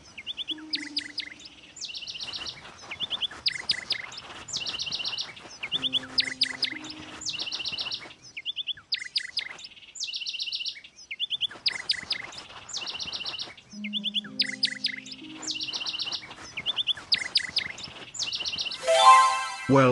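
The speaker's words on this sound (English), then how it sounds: "Now try to catch the bird." Bird chirping in the Sonar Islands audio video game: repeated bright tweet phrases in steady bursts, sometimes overlapping with soft low tones and a brief rising sound effect at the end.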